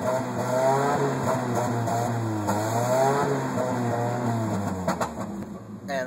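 A 1997 Kia Sportage engine running under throttle with an uneven, stumbling misfire, its harmonic drone rising and wavering steadily and loudly close to the microphone for several seconds, with no talk over it.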